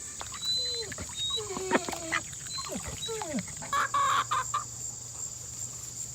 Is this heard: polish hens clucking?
yes